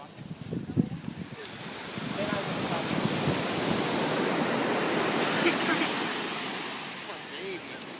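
Ocean surf rolls steadily onto a Pacific beach, a broad continuous wash of breaking waves heard up close, with faint voices briefly audible near the start.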